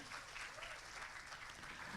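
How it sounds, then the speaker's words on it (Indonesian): A short-film festival awards night crowd claps continuously, a faint and distant wash of applause that runs evenly throughout without any clear voices. "Mana tepuk tangannya?"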